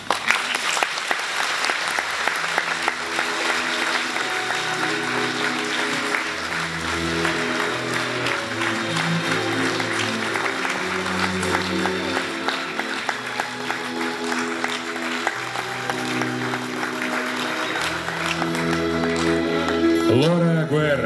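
Sustained applause from a festival audience greeting an honorary award at the XXIII Russian film festival, a dense, even wash of clapping lasting the whole stretch with a few musical tones underneath.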